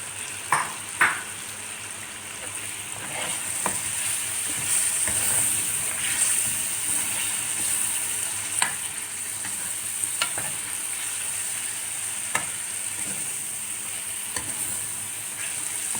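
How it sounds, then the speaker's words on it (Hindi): Potatoes and meat for aloo gosht fry in hot oil, a steady sizzle running throughout while a spoon stirs and scrapes the pot with occasional clanks. "और ये आलू हैं ये भी साथ ही डाल के इनको भून"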